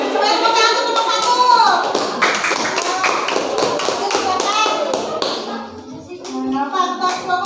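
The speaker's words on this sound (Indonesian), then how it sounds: "ya tepuk tangan semuanya" Students in a classroom clapping together, a dense burst of rapid hand claps and taps that thins out, mixed with children's voices and a teacher talking.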